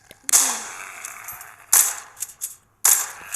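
Gunfire in The Walking Zombie 2, a zombie shooter game: three sharp, loud shots spaced apart, each with a short ringing tail, plus a few smaller clicks in between.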